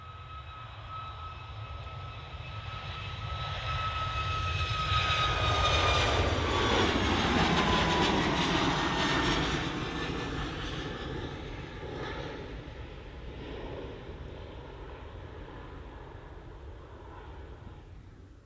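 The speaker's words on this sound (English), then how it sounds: "Just listen to the Ryanair." A Ryanair jet airliner's engines at Manchester Airport, a loud roar with whining tones that swells as the aircraft passes close, peaks midway, then fades gradually into a lingering distant rumble.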